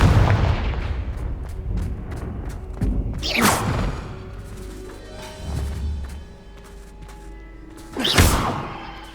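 Confringo explosive spell blasts in Hogwarts Legacy, two loud booming explosions several seconds apart with whooshes and crashing debris between them, near and forceful, with no speech.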